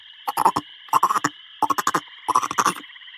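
A frog croaks loudly and close by in four rapid bursts, each a quick rattling series of pulses separated by short pauses.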